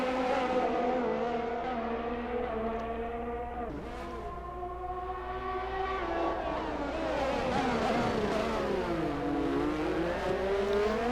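Racing car engines roar at Spa circuit in a realistic racing video game, a continuous loud drone with rising and falling pitch as cars accelerate and pass, holding steady throughout with no talk.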